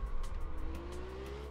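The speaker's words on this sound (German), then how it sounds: "das Auto driftet jetzt aber ganz wild hin und her hier" A car drifting in Absolute Drift, its engine droning with a rising pitch as the tires squeal steadily, fairly faint and close, with no talk.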